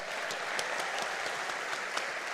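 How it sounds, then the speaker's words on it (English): Audience applause for a speaker at a university welcome event in Madrid: dense, steady clapping from a crowd with crisp individual claps, holding at an even level throughout without talk. "Please, another applause for Javier."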